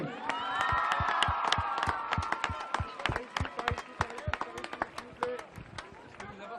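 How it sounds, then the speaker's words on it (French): Crowd clapping for a photo at a public homecoming celebration for a Miss France winner in Lille, loose uneven claps under loud voices and shouting, thinning toward the end. "pour la photo, vous pouvez les applaudir s'il vous plaît"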